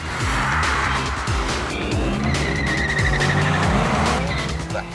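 A car is flung into a handbrake turn, tires squealing and skidding loudly over a revving engine for several seconds, close and continuous.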